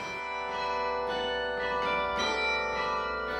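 Carillon bells ring from a bell tower, played from a keyboard. The overlapping tones are rich and sustained, with each new strike sounding about every half second over the lingering resonance.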